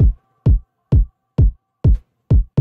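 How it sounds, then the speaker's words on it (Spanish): Electronic kick drum sample in a production, six deep, punchy thumps in an even steady beat, clean and isolated with silence between hits. "Tengo un kick."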